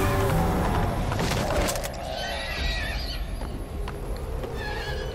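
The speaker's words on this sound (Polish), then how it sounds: "Skąd tu nagle ten koń?" A horse in the Metal Gear Solid V: The Phantom Pain video game whinnies loudly at the start, followed by softer hoof steps and game ambience that fade toward the end.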